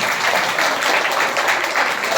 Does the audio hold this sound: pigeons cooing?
no